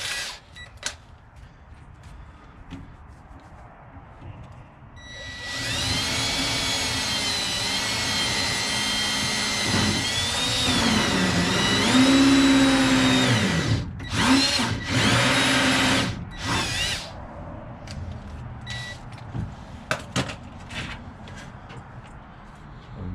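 After a quiet start, a power drill whirs loudly for about ten seconds with pitch dips as it bites into wood, then stops and restarts in short bursts.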